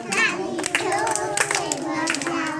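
Children at an anganwadi centre clap their hands in a loud, steady burst of overlapping claps, with a woman's sung instructions and children's voices running over them throughout.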